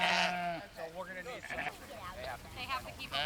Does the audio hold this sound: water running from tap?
no